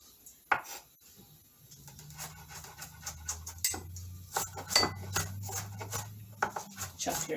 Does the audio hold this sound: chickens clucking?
no